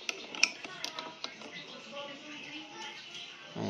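A wrench tightening a motorcycle handlebar bolt produces a few sharp ratcheting clicks and small metallic ticks near the start, close but quiet, then a softer mechanical rustle.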